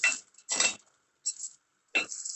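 Four short scraping clinks of a spoon stirring two chopped onions in a pan for fish curry, quick separate strokes with quiet gaps between them.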